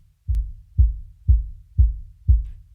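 Kick drum boosted by a Clarisonics sub-level enhancement plugin, five deep, booming hits at a steady, even pace with heavy low-end sustain, isolated with no other sounds.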